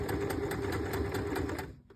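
A sewing machine runs a quick burst of about eight stitches to finish a four-step buttonhole, with a rapid, even needle clatter that stops abruptly near the end.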